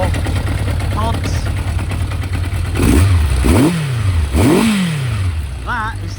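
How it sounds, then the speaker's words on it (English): A Kawasaki Zephyr 750 four-cylinder motorcycle fitted with restricted pod filters idles roughly, then gets blipped in three sharp revs that rise and fall. Someone talks briefly in the background. "here's the Zephyr running with the restriction, all four pods"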